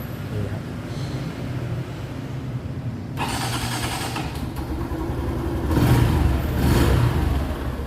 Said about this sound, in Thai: เครื่องติดแล้วนะครับ